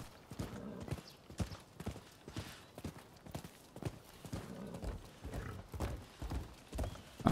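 Horse hooves in the video game Rise of the Ronin, pounding out a steady, rapid galloping rhythm close up, joined at times by a whinny, and no voices are heard.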